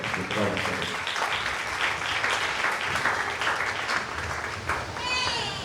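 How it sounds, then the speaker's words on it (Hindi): A church congregation claps steadily in sustained applause at a Father's Day service, a dense crowd of hands, with a voice and a few children audible briefly over it. "उनके लिए जोरदार तालियां"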